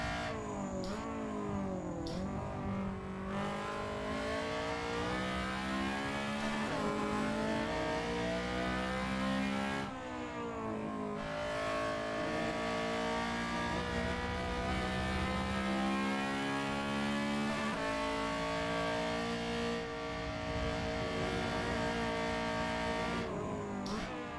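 A Honda Civic EG race car engine howls loudly on the Brands Hatch Indy circuit, rising and falling through repeated revving climbs and gear changes, heard continuously from on board.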